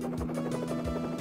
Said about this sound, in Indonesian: Dan helikopter yang sedang berputar.